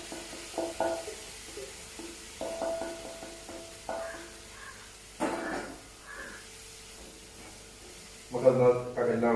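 Clam meat and onions sizzle in a frying pan while being stirred, with soft scraping and intermittent frying hiss, and a voice speaks briefly near the end.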